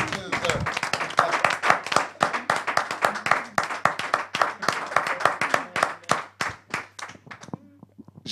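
A congregation applauds in a dense, sustained burst of clapping that carries on steadily for several seconds, then thins out to a few scattered claps at the end.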